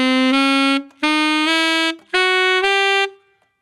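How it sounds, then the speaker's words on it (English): A diminished scale played on a horn, most likely saxophone, in a jazz lesson: sustained bright tones in a steady stepwise run of about six notes, with brief gaps between phrases, played alone and close. "So we'll take a diminished scale."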